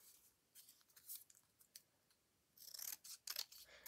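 Large scissors snip through card, a series of faint, close crisp cuts that grow denser and louder toward the end, with no voices.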